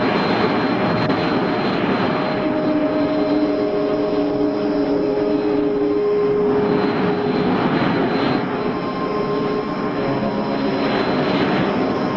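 A spaceship landing effect in an old science-fiction radio drama: a steady, loud engine drone with a throbbing hum that holds for the whole stretch and slowly shifts in tone, with no voices.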